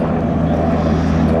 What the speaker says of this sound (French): C'est un hélicoptère biturbine de manœuvre et d'assaut